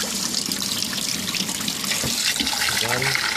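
Rice is rinsed under a running kitchen tap, with water splashing and churning into a bowl at close range for the whole stretch, and faint handling noises mixed in.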